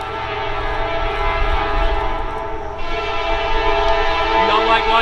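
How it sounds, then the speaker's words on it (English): A train rolls past at a cemetery in West Point, Kentucky, a loud, steady rumble of rail cars filling the whole stretch, with a horn-like tonal blast joining partway through. "So while this train passes, you're probably not gonna be able to hear me"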